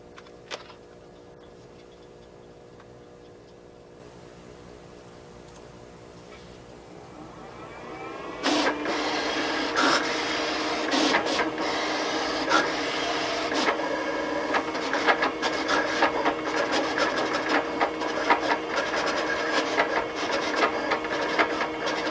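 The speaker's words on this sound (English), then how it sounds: "I'm going to go ahead and cut the design out" A vinyl cutter slices out a printed design in a steady mechanical run, quiet motor whirring at first and then louder with rapid ticking and clicking strokes of the blade carriage, close by with no talk.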